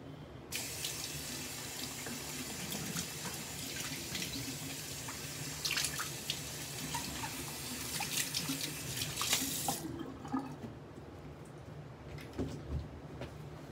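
Water runs steadily from a bathroom tap into a sink while a face is wetted before a shave, a close, continuous splashing rush that stops abruptly near the end, leaving faint handling sounds.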